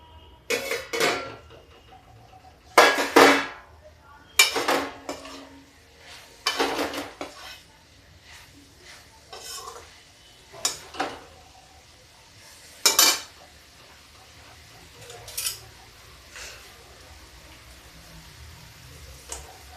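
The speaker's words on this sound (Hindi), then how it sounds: "थोड़ा मसाला भून ले" Spices roasting in a pan for a potato vegetable curry, with a spoon striking and scraping the pan in scattered sharp clanks and clatters, close by, over a faint background of sizzle and long quiet stretches.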